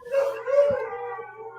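A dog lets out a single drawn-out, mournful howl close by. It wavers briefly in pitch, then trails off.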